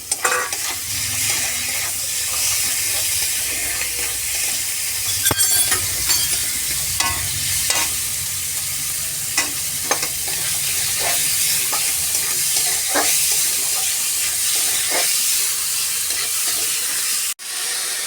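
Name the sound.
chicken mince frying in pan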